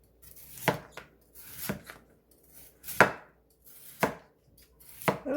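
A knife chops radish into pieces on a cutting board while making seokbakji, a Korean radish kimchi, with about six sharp, separate cuts spaced roughly a second apart, close up and clear with no talk.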